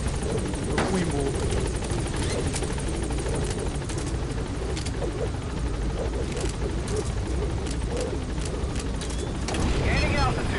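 Pequod helicopter in Metal Gear Solid V: The Phantom Pain, its rotor and engine giving a loud, steady, dense roar throughout while voices talk over it.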